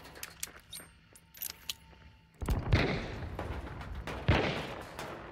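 Gunfire in the Hunt: Showdown game: a few faint, sharp distant cracks, then a louder burst of close shots and rattling impacts, with a second heavy report a couple of seconds later.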